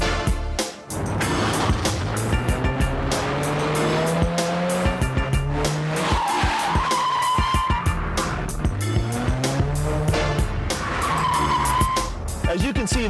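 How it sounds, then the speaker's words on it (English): A Mini Cooper skids and races with loud squealing tires and a revving engine, sustained throughout as in a chase scene, with brief talk underneath. "The chase scene in the Italian Job with the Mini Coopers was so spectacular"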